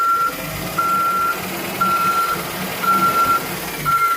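Yard goat truck backing up with repeated steady backup beeps in a regular on-off rhythm, over a low diesel engine rumble, fairly close and no talking.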